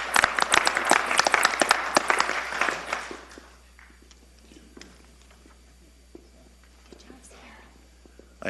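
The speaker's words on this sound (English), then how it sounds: "So one more round of applause for them, please." Audience applause for students at a town council meeting: a dense burst of clapping that tapers off after about three seconds into a quiet room with faint murmurs and shuffling.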